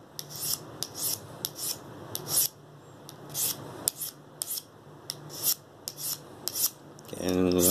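An oboe reed knife is sharpened on a fine grain abrasive in a quiet room, with about a dozen short rasping strokes at a steady rhythm, each a crisp scrape, followed by a brief voice at the end.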